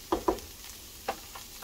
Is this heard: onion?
yes